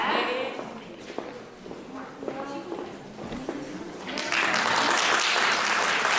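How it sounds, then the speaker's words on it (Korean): An audience at a women's committee lecture claps to welcome the lecturer, starting as scattered claps under a voice and swelling into loud, steady applause for the last two seconds. "박수 부탁드립니다."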